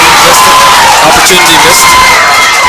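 Brookeborough supporters cheer loudly at a 2020 Fermanagh Junior Gaelic Football Championship quarter-final against Derrylin, a wide crowd roar with shouts and whoops while a commentator talks over it.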